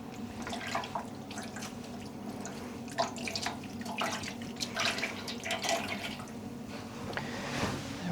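Water drips and trickles from freshly dyed yarn as it is squeezed out by hand during rinsing, a soft scattered patter of drops and small splashes close by with no talking.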